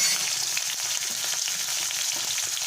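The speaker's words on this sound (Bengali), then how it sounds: "আলুটা প্রথমে ভালো করে ভেজে নেব" Potatoes frying in a pan after the tempering for a mixed vegetable curry with beans, eggplant and tomato, giving a steady dense sizzle with faint stirring scrapes throughout, close and continuous with no talking.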